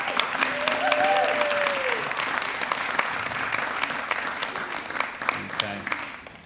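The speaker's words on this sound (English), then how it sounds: "Can we give them a big round of applause for their stories today?" A crowd applauds young children after their stories at a school arts festival, dense clapping strongest at first and then tapering, with a brief tonal sound and some voices over it.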